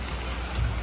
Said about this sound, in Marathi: घमासान बारिश, घमासान बारिश.